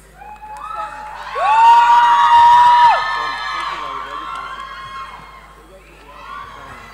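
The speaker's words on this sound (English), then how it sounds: "A round of applause as they make to the stage." Crowd at a school prize-giving day cheers and shouts loudly as winners head to the stage, a sustained burst of whoops and excited voices, some children's, that peaks and then fades into general hubbub.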